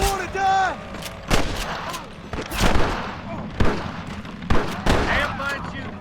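Gunfights in Red Dead Redemption: sharp rifle and pistol shots crack out irregularly, some loud and close, others scattered further off, with voices calling out between the bursts.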